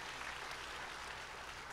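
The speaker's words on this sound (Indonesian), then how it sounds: "Tepuk tangan yang hebat buat Tuhan Yesus." Church congregation clapping together during a worship service, a dense, even wash of applause that holds steady and fairly quiet for a moment, with no voices over it.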